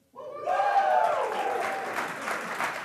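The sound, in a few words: audience applause at a demo day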